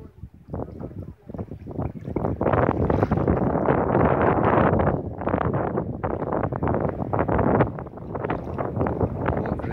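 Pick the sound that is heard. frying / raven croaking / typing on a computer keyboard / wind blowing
wind blowing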